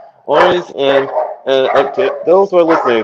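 A dog barks in the background under a man's steady, close conversational talk, its short barks partly masked by the speech.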